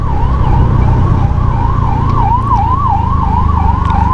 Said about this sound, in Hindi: एम्बुलेंस को जाने देते हैं